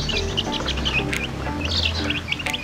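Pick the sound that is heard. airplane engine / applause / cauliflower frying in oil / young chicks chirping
young chicks chirping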